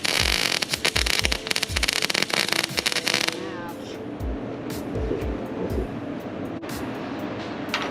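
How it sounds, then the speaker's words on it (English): Welding used steel produces a loud, dense, crackling arc sizzle with rapid pops for about three seconds, then stops, leaving a quieter background with scattered clanks and faint voices. "We still sitting here welding"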